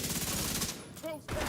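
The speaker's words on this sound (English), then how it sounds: "basically now we just shoot this thing" Gunfire in The Division 2 video game rattles in a dense fusillade under a player's voice, then breaks off briefly before resuming.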